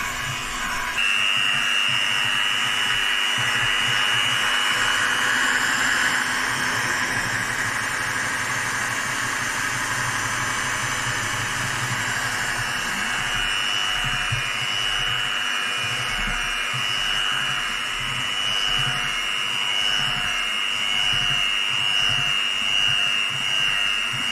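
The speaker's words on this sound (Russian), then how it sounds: "таким образом, ребята, у нас замешивается наше тесто" Dough for a Russian Easter paschka bread kneading in a machine, a steady motor drone with a whine and faint thumping and rubbing underneath, continuous and close throughout, no speech.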